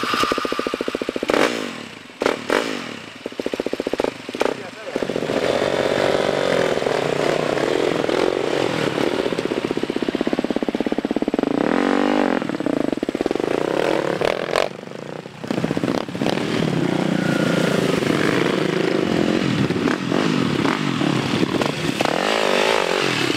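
A motocross dirt bike climbs a mountain trail in Garut, its engine revving loud and close, whining up and down through gear changes, with brief clatters and rough bumps along the way.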